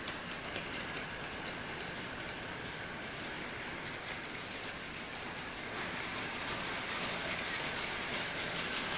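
Model railway train running along its track, a steady faint rolling hiss and rattle that continues unbroken with no voices over it.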